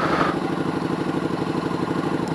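A Can-Am Spyder RS engine idles steadily while warming up, a continuous close, even mechanical rumble with a light clattering texture and no change in pace.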